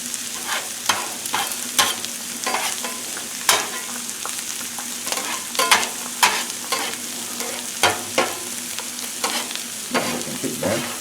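Three whisked eggs spread across a hot Blackstone griddle for a shrimp omelette give a steady close sizzle, broken by repeated sharp scrapes and taps of a spatula.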